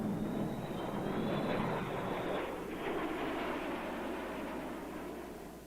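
A B-52 bomber roars in a steady, loud broadband drone, its jet engines blending into a continuous rushing wash with a faint whine, fading slightly toward the end.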